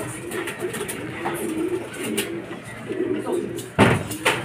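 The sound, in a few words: racing pigeons arriving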